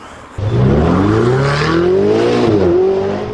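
A Ferrari 488 GTB with a 661-horsepower turbocharged engine pulls away and accelerates hard on an open road, its loud engine note climbing steadily through the revs with rising harmonics and a brief dip as it shifts gear.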